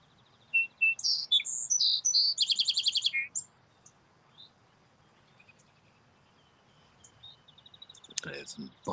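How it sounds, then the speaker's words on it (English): Outdoor birds chirp and tweet in quick bright bursts near a microphone in a light breeze, busiest at first and then thinning to scattered calls over a faint background. "Birds chirping."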